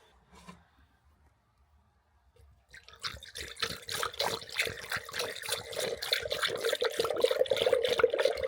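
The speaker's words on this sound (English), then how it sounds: "Filling this up till it starts to go above the fill line." Liqui-Moly engine oil pours steadily into the engine of a Honda FL5 Civic Type R, a continuous near liquid stream building after a quiet start and running without pause.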